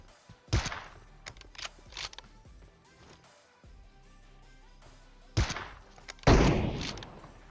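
Gunfire from the video game PUBG Mobile: a loud shot near the start, scattered fainter pops, then two heavy booming blasts near the end over low game ambience.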